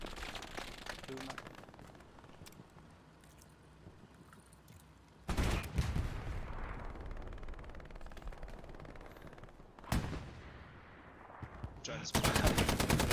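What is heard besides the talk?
gunfire in the video game Hell Let Loose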